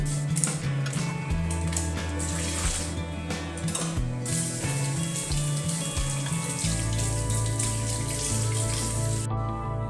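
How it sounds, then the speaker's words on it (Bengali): Paintbrushes are washed under a tap at a sink in the corner of a painting room, running water splashing steadily and close for about ten seconds with a dense, even wash of sound and no speech. "এই তুলিগুলো এখন আমি ভালো করে ধুয়ে ফেলবো"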